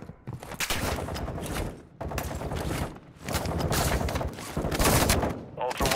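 Dense, continuous gunfire from the video game DMZ, with bursts of fusillade and machine-gun fire rolling almost without pause for several seconds, loud and close, with brief dips between volleys and a voice speaking over part of it.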